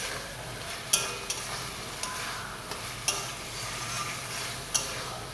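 Potatoes and spices sauté in a pan, a soft continuous sizzle with occasional sharp spoon clacks against the metal as they are stirred, fairly quiet and close, no voices.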